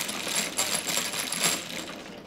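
Dice clatter and rattle inside an automatic mahjong table, a dense, continuous run of small hard clicks lasting a couple of seconds, close and fairly loud.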